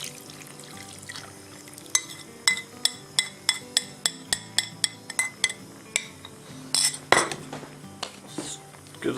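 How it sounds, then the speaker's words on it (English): A metal utensil scrapes and clinks against the pot while venison stew is stirred, giving a steady run of close, sharp rhythmic chinks followed by softer bubbling and stirring, with no talk. "Give this another stir here."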